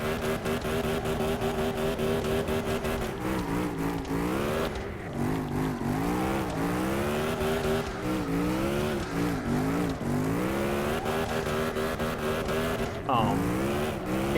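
In the CarX Drift Racing Online game, a car drifts with a loud engine revving in rising and falling sweeps through gear changes. Someone talks throughout.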